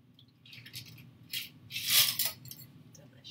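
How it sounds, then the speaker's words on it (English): A golden-red Sand Snake cocktail is poured from a shaker into a martini glass, with quiet clinks, a rattle of ice and a short liquid splash, heard alone and fairly close. "which we can pour into our martini glass."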